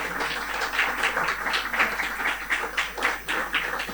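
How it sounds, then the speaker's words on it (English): Applause from an audience at a book event's inaugural ceremony, greeting two guests who stand up; steady dense clapping from many hands fills the whole stretch at moderate volume, with no talk over it. "Let's give them a clap"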